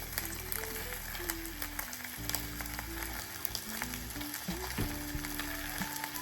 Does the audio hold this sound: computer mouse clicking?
no